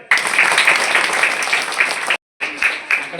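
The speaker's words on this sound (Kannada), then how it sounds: "ಅವರಿಗೆ ನಿಮ್ಮ ಪರವಾಗಿ ಒಂದು ಚಪ್ಪಾಳೆ" A crowd at a birthday celebration applauds with dense, steady clapping, cut by a brief gap before the clapping resumes.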